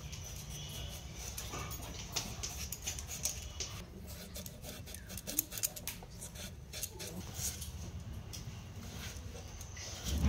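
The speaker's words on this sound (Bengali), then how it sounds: "এবার কেটে নিচ্ছি আলু।" Potatoes are cut for a cauliflower and rui fish curry, producing repeated quiet snipping and slicing sounds at close range in a steady rhythm, with no talk.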